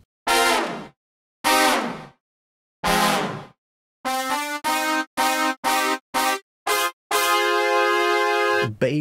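Synthesized brass from a classic gospel synth expansion for Kontakt: loud, bright blasts like a horn, first three separate swells, then a rhythmic string of short stabs ending in a long held chord.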